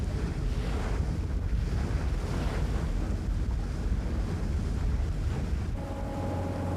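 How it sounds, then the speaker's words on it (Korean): Rough, heavy sea waves surge around a boat near Hyeongje Island, a remote rock-fishing spot, with strong wind buffeting the microphone in a steady, loud roar and a faint engine hum emerging near the end. "형제섬에 가까워질수록 파도는 더욱더 거세진다."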